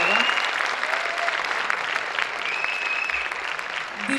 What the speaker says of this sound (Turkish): Zilan'a büyük alkış ve onunla beraber çalışan arkadaşlara